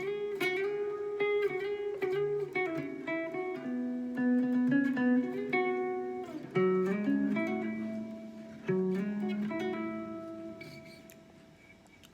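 A guitar plays a song's solo as a clear melodic single-note line with bends and sustained notes, moderately quiet and alone with no talk.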